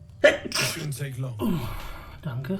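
A single sharp sneeze bursts out close and loud, followed by short spoken words from the same nearby voice.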